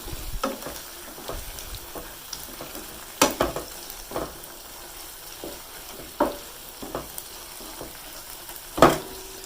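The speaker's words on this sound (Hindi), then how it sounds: "इसमें हम थोड़ा खुश्क मेवा ऐड कर देंगे। अच्छी तरह मिक्स कर लेंगे इसको।" Makhandi halwa is stirred with dry fruits in a pan, with scattered scrapes and knocks of the spoon against the metal over a faint low sizzle.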